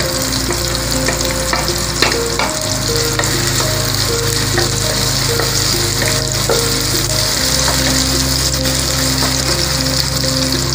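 Vegetables fry in hot oil in a pan, giving a loud, continuous dense sizzle with faint stirring clinks. No voices are heard.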